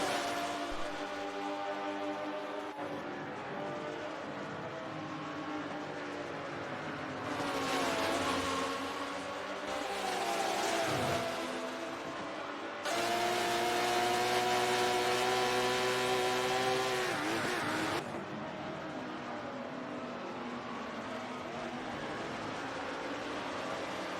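Race cars at Sonoma in a sim racing game, a steady droning engine note with pitch shifts and swells of louder revving as several cars run close together, no talk.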